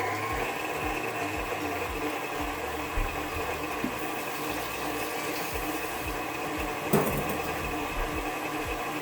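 An electric mixer beats eggs for a banana cake, giving a steady, loud, continuous motor whir with an even hum throughout and no talking.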